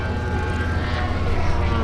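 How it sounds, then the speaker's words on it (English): A Hangar 9 Extra 300 RC plane with a 3W 110cc petrol engine drones steadily at an airshow in Middelburg, Mpumalanga, South Africa, a sustained buzzing engine tone over outdoor background noise. "Currently flying a Hangar 9 Extra 300. He's got a 3W 110cc motor in it."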